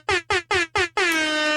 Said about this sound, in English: our air horn isn't going off frequently